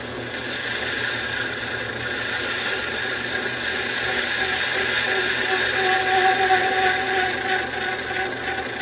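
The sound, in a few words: lathe cutoff tool squealing while cutting a groove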